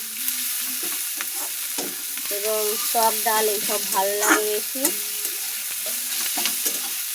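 Jute leaves frying in rohu fish oil in a wok give a constant close sizzle, while someone speaks over it in the middle.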